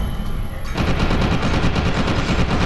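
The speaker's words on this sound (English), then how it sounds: "A laser rifle." Rapid laser rifle fire in the first-person shooter F.E.A.R. 2: Project Origin, a dense, loud, continuous stream of shots that starts abruptly and carries on steadily with no talk.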